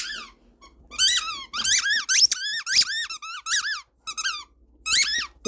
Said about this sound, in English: She will always squeak for you if I allow her to.